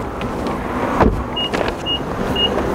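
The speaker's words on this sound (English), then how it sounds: "Car beeping there just to tell me that I've got the key on me and I've left the car running." A running Nissan Leaf with its key inside gives short, clear warning beeps, three repeating at even intervals, over a low background hum and a brief thump.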